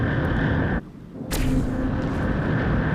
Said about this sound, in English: they are using rifled large railguns